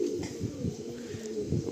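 Low rolling coos from Madrasi pigeons inside a loft, a few overlapping birds calling close by in a short, continuous burst without any voices.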